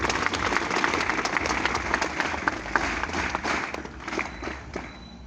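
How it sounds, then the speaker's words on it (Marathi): Sustained applause from an audience welcoming guests and attendees at a high school function, dense steady clapping throughout that thins and softens slightly toward the end. "जोरदार एकदा टाळ्या वाजवून या पाहुण्यांचं आणि उपस्थितांचं स्वागत करावं ही नम्र विनंती"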